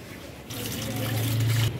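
Water is poured for washing clothes, a brief gushing, splashing flow that starts abruptly and runs for about a second before cutting off, fairly close and clear.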